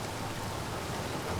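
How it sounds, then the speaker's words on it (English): Steady rain falling in the video game Space Engineers, a dense, even hiss of drops that stays constant throughout with no talk over it. "The rain from heaven."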